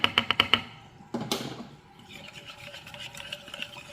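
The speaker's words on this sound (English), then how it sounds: "And then we're gonna whisk it all together" A whisk stirs cornstarch into slow cooker pepper steak. Several quick sharp taps open the sound, then a scraping burst, then a softer continuous rasp of stirring.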